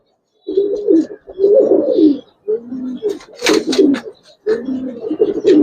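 A Giribaz pigeon coos close by in several rounds of low, throaty rolling calls separated by short pauses, loud and clear with nothing else over it.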